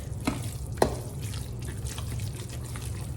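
Chicken dressing mixture stirred with hot broth gives a close, wet, squishy sloshing with soft drips and splatters, steady and fairly quiet, with no talking.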